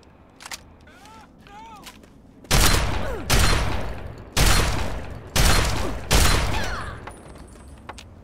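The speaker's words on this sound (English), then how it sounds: "You are going to die with a combat shotgun to the face." Combat shotgun blasts in Fallout 3 on PC: five loud, heavy booms spaced roughly a second apart, each with a short reverberant tail, after a few seconds of quieter background with faint voice-like tones.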